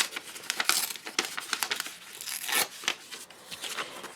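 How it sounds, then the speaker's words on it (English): A letter-size sheet of printed paper torn in half by hand, giving a close, crisp run of ripping and crinkling bursts with short pauses between them. "you're just going to rip that. I usually just rip it in half."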